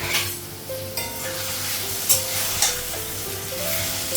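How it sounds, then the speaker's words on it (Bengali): Potato and paneer frying together in a pan, a loud close sizzle with stirring scrapes and occasional clinks of a utensil against the pan. "আলু আর পনিরটা একসঙ্গে ভেজে নিই।"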